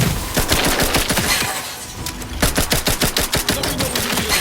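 Rapid automatic gunfire in The Outer Worlds 2, a loud sustained burst of closely spaced shots, a brief lull, then another fast volley.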